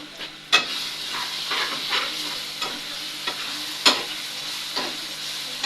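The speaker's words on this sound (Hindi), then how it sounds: "प्याजों को जी हमने घी में फ्राई कर लिया था" Onions and eggs frying in hot ghee in a home kitchen, giving a steady close sizzle broken by sharp clicks and scrapes of stirring at irregular intervals, with no voices.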